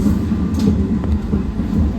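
Steady low rumble and rolling rail noise from a Dutch Mat'64 passenger train slowing as it pulls into Amersfoort station, heard from inside the carriage, with faint squeaks and clicks over a continuous hum and no talking.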